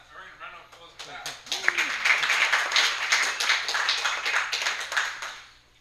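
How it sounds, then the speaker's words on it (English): Applause from the crowd at a Bay Area software defined radio meetup: talk opens the moment, then clapping swells into a sustained, fairly close round that fades out toward the end. "We're going to run off applause for that."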